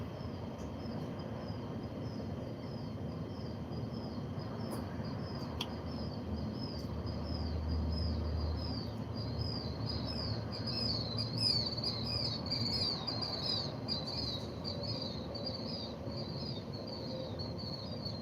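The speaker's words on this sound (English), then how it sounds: "That is some adorable sounding like sparrows or something flying over me." Sparrow-like small birds flying overhead give rapid, high chirps that repeat throughout, with a faint low hum of the outdoor morning setting underneath and no talking.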